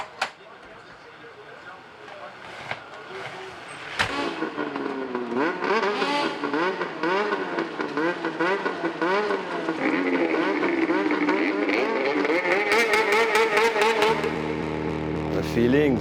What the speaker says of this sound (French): On entend les moteurs rugir dans les paddocks.